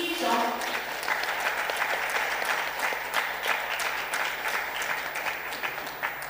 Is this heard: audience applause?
yes